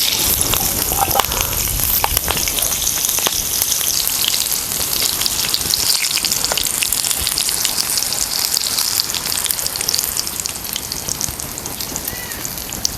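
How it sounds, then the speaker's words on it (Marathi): Four green chillies deep-frying in hot oil after a batch of ridge gourd bhaji, a steady, dense crackling sizzle close by, with no talk throughout. "4 मिरच्या तोंडी लावायला तळून घेऊया."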